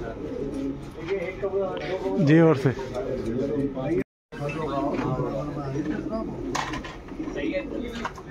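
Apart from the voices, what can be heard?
pigeons cooing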